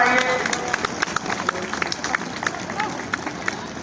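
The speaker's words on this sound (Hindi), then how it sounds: "सभी से अनुरोध एक बार जोरदार तालियां बजाकर इनका हौसला बढ़ाइए" Crowd applause at a UP Police passing-out parade of the 43rd Battalion PAC in Etah, steady dense clapping with sharp individual claps standing out, close and loud, mixed with background crowd noise.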